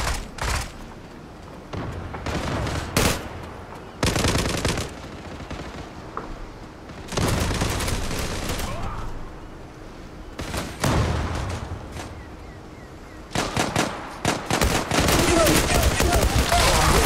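Gunfire in the online shooter game Zula comes in loud bursts of rapid automatic fire separated by short pauses, with some talk in the background.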